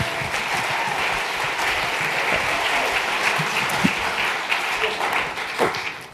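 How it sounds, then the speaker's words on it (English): Loud, sustained applause from a forum audience greeting Jim Gabor, a dense continuous roar of clapping with a few sharper claps standing out near the end. "Please give a round of applause for our own Mr. Jim Gabor."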